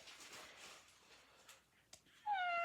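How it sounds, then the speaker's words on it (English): A robot kitty toy from South Korea lets out a short electronic meow, a clear, tonal and fairly loud sound near the end after quiet rustling. "Did you hear that cute meow?"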